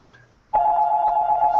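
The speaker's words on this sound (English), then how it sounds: "Oh, there goes my phone." A telephone starts ringing abruptly after a quiet moment, giving a steady, loud electronic tone that holds to the end.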